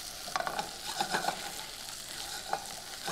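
About three large cloves of chopped garlic sizzle in a pan, making a soft, steady frying hiss. A few light stirring clicks cut through it, and no one speaks.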